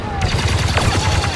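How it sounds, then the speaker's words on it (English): A heavy blaster rifle firing in Star Wars Battlefront 2, a fast continuous stream of close, loud shots with a rhythmic low thump, under a speaking voice. "Oh, this is a heavy gun. Blaster."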